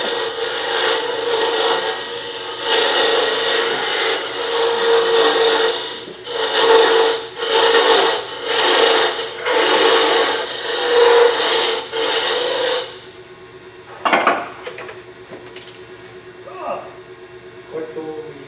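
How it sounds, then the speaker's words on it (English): A round nose scraper cuts into spinning wood on a lathe, making a loud rasping scrape that swells and fades in pulses. It stops partway through, followed by a few faint knocks. "That was just a round nose scraper."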